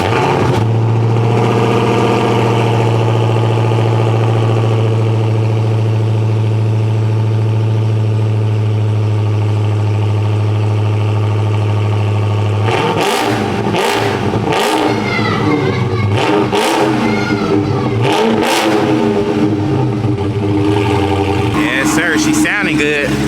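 A Dodge Hellcat bought from Copart idles with a loud, steady low rumble for about twelve seconds, then is revved hard in a string of sharp, close bursts with someone talking between them.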